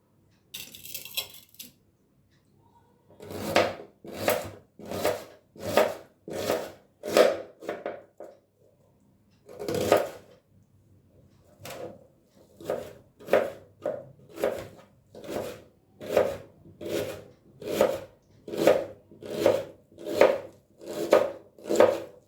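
A knife chops vegetables into small pieces on a cutting board, sharp, even strokes in two long runs split by a short pause, close and alone.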